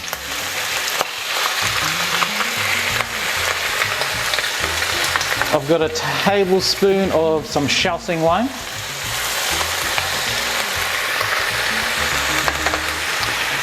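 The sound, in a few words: pork belly frying in pan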